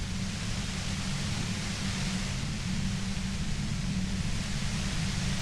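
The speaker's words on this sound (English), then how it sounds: "You hear through the white noise. It's especially bad suddenly." Dense, steady white-noise static from the game Disco Elysium, hissing evenly across the whole stretch with a rumbling low layer and no breaks or changes in level.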